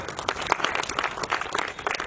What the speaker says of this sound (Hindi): तो एक बार जोरदार तालियां होनी चाहिए ऐसे टैलेंटेड लोगों के लिए।